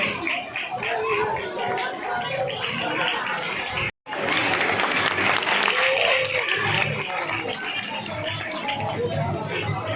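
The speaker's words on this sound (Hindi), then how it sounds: "तालियां कुछ ढीली पड़ रही हैं, जरा जोर से बजाओ" Crowd clapping at a temple gathering during a Bhagavata Katha closing with a flower Holi at Lalbagh Kali Mata Mandir, Moradabad, a dense steady roar of applause with a brief cut midway, voices mixed into it.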